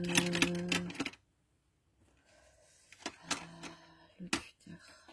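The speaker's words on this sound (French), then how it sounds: "Je vais prendre mon cutter" Utility knife blade being pushed out with rapid ratcheting clicks in a close burst, then a quiet gap and a few more scattered clicks and handling noises during box-making craft work.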